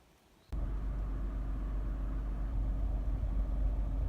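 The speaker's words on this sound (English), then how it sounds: "engine's running through this section of the video" Honda CR-V 2.0 i-VTEC engine starting up after a brief quiet moment, then idling steadily with a low, even hum and no speech.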